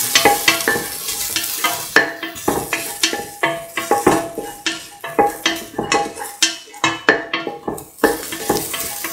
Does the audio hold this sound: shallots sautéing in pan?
yes